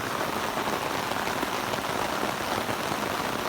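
Torrential rain pours down on a yard, a steady, unbroken wash of dense droplet hiss at moderate level, with no voices.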